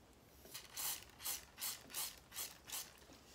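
Spray adhesive from an aerosol can sprayed in about seven short, evenly spaced hissing bursts onto a skull prop, each spurt close and clear against a quiet background.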